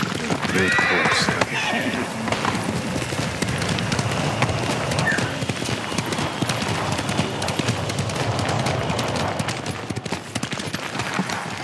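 A horse neighs and its hooves clop in the Ghost of Tsushima video game, heard amid a dense, busy mix of game sounds with rapid percussive bursts throughout.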